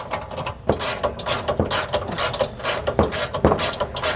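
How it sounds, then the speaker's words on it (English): A 9/16 inch socket wrench tightens a bolt on a Lippert JT's Strong Arm jack stabilizer kit fitted to a 2022 Jayco Jay Feather. The clicks are close and rapid, coming in fast bursts of ratcheting. "So now we're going to take a 9/16 inch socket. We're going to begin tightening this bolt down."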